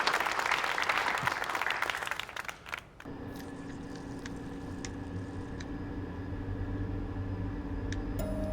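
An indoor audience applauds a writer at a book event, a dense burst of clapping that fades out after about three seconds and leaves a quiet room with low hum and a few faint knocks.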